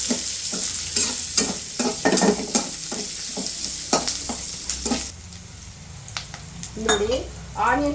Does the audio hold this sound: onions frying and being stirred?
yes